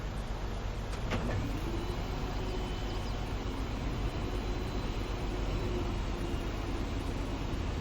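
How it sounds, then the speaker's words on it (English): Heavy dump truck engine rumbling steadily in Farming Simulator 22 while unloading sand at a golf course landscaping job, a continuous low drone with a brief higher mechanical whine early on, no talk. "I just need to get the dump truck unloaded."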